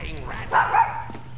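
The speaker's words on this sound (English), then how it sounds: "Sorry, that's my dog, Tito." A pet dog gives a couple of short barks indoors during a Call of Duty Black Ops 3 gaming session, close and brief, mixed with game sound and a voice.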